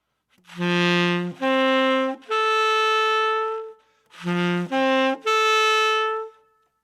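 Two rounds of three rising sustained notes, root, fifth and tenth, on a bright, brassy keyboard instrument, each note held, with a short pause between rounds.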